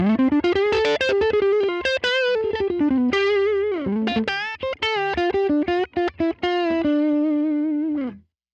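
A distorted electric guitar on the neck pickup, played through a Line 6 Helix amp modeler, plays a sustained, singing melody with bent notes and quick runs, ringing out for several seconds before stopping.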